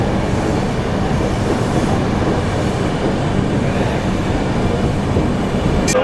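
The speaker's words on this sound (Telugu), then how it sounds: "మన ట్రైన్ అయితే నెల్లూరుకి ప్లాట్ఫామ్ 2కి అయితే వచ్చింది" The Tirupati–Puri Express, running with LHB coaches, rumbles loudly and steadily at Nellore station platform 2, a continuous close roar of wheels and carriages without talk.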